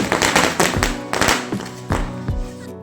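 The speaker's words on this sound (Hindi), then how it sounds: "हम पटाखे फोड़ने में लग गए" Firecrackers burst on Diwali in a village, a quick series of sharp, loud pops and bangs in an uneven rhythm that close together, fading at the end.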